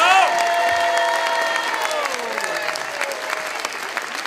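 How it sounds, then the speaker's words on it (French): A crowd claps loudly and continuously in a dense roar of applause, with some cheering and a few sustained musical or vocal tones fading out beneath it. "Applaudissez-le très très fort"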